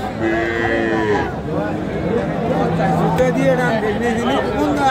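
Sahiwal cattle, bull and heifer, at a busy livestock market low and moo in long drawn calls, heard under loud crowd chatter and nearby talking.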